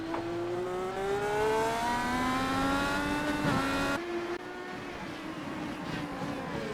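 An IndyCar racer in a game at the Belle Isle street circuit screams past at high revs, its engine pitch sliding down as it goes by, followed by a second car rising and fading, with no talk.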